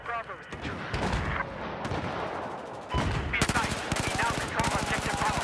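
Rapid bursts of automatic fire from a high fire-rate weapon in the game Battlefield 4, loud and near, with sustained rattling volleys and sharp repeated cracks that intensify toward the end.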